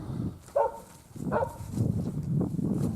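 A dog barks twice at a distance by a river, separate sharp woofs over low rumbling outdoor background noise.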